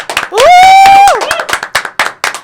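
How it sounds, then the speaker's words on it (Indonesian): Studio audience at an Indonesian political talk show clapping in quick, crisp bursts, with a long sustained vocal whoop rising over the claps near the start; loud and close. "Boleh tepuk tangannya semuanya"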